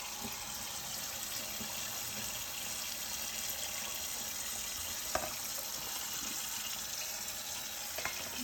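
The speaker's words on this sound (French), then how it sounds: "tu les rinces à l'eau froide" Cold water runs steadily from a kitchen tap while ingredients are rinsed in the sink, a continuous hissing gush with a couple of small clinks and splashes.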